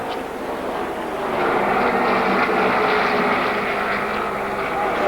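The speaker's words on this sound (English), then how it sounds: "don't do those burnouts. It hurt that engine." Loud, sustained engine roar from a 2002 NASCAR Winston Cup race car during burnouts at Kansas Speedway. The harsh, broad noise swells and holds, with a voice faintly mixed in underneath.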